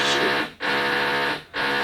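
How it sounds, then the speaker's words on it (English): Building work next door gives off a loud, continuous grinding drone that cuts out briefly twice in a regular cycle, like a power tool running in bursts. No one speaks. "My next door neighbor is having a building work."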